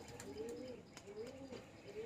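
Pigeons at a loft give a few soft, rolling coos at an even pace, faint and at a distance.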